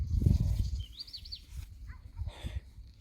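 A cow gives a low, loud moo right at the start, outdoors during a group run, with birds chirping softly in the background afterward.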